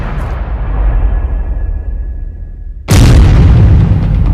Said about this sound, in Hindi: हम आपको दिखाते हैं हूथी ने कैसे ग्रीस के तेल टैंकर को धमाके में उड़ाया।